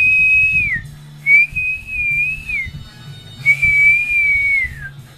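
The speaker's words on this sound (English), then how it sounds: "there's like a real high pitch that he can hear" Three long, high-pitched whistle tones sound in turn, each holding steady and then sliding down at the end, over a low background hum.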